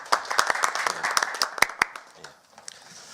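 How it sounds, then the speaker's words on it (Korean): Scattered applause rises from an audience at a Korean National Assembly forum on internet regulation policy, a loose patter of individual claps that thins and fades over a few seconds, moderately distant in a large room. "우리 박수 한번."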